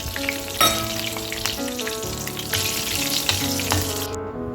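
Loud, steady sizzling and crackling of curry leaves frying in hot oil, with sharp pops and spatters throughout, close up and without talk.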